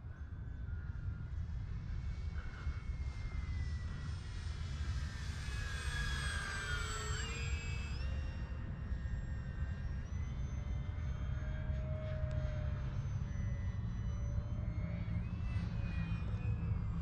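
The electric motor of an E-Flite P-51D Mustang RC model airplane whines overhead, its pitch climbing and then dropping as it sweeps past midway through, then droning on more faintly over steady outdoor background rumble.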